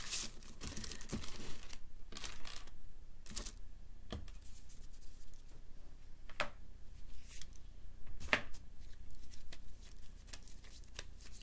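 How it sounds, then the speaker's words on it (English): Salt dough being pushed and pressed together by hand on a craft table, soft scattered crinkles and taps with a few sharper knocks, close and quiet, no talking. "Dough, push it all together."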